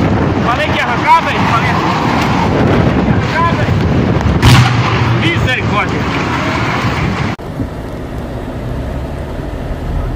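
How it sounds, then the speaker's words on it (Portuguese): Very strong wind buffeting and shaking a pickup truck at an entrance, a loud roaring rush with heavy low rumble and gusty surges, then abruptly quieter near the end; a voice speaks over the noise. "Vento muito forte, já balançar a caminhonete."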